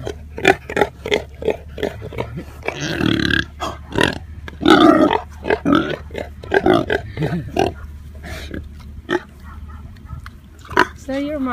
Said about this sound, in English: Look at these little piggies coming to visit